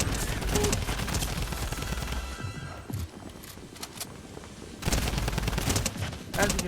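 Rapid bursts of automatic gunfire in a shooter game, loud volleys that start, pause, and start again, with quieter stretches between bursts.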